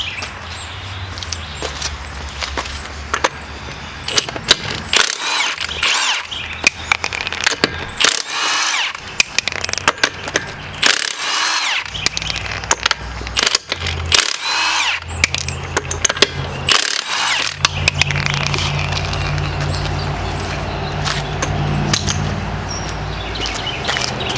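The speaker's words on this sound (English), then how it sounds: "you can do this with a normal 4-way lug wrench, or you can use an impact like I'm going to" Impact wrench working 21 mm lug nuts on a car wheel, loud repeated bursts of buzzing hammering broken by short pauses, then a steadier run toward the end.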